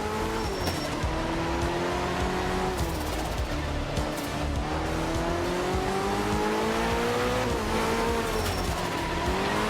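Race car engine revving loudly and continuously in a racing video game, the pitch rising and dipping as the car spins out under acceleration, with tire squeal mixed in and no talking.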